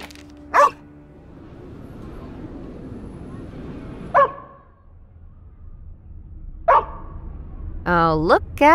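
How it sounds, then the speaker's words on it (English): A dog barks in the Hauma detective noir video game: several sharp, separate barks spaced a few seconds apart over a low ambient hum, ending in a rising, whining yelp. "There's a dog."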